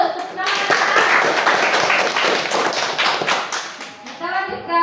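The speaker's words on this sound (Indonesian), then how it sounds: "Tepuk tangan." A classroom of children clapping together, a dense, steady burst of hand claps lasting several seconds, loud and close, with a few young voices calling out at the start and end.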